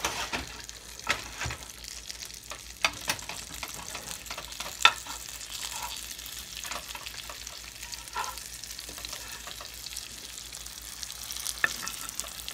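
Over-easy eggs sizzle steadily in a skillet, a fine continuous crackle with scattered sharper pops and spits throughout, moderately close and with no voices.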